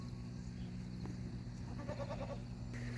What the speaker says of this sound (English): We have a billy goat over there